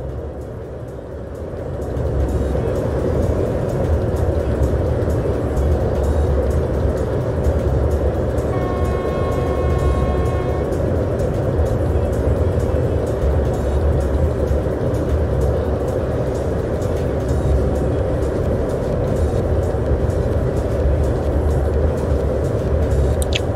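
A train runs in the Open Rails simulator on a Polish route from Poznań Główny, a loud continuous rumble of wheels and motor with rhythmic rail clatter and a brief tonal whine midway.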